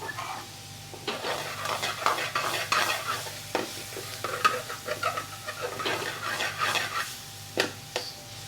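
Onions and garlic sizzle softly in a pan for a Bengali tomato lemon fish curry, while a utensil stirs and scrapes in an irregular rhythm of scratchy strokes, close and fairly quiet.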